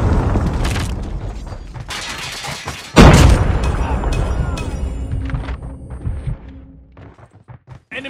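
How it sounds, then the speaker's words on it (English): Predator missile strikes explode in Call of Duty Mobile. A loud, close boom hits partway through, set among gunfire, mechanical game effects and scattered shots that fade toward the end. "Hostile predator missile inbound."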